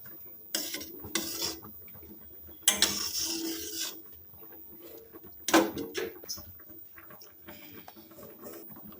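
A metal ladle scrapes and clinks against a cooking pot in a few separate bursts while foam is skimmed off a simmering stew of snails, potatoes and greens, close and clattery with quiet gaps between.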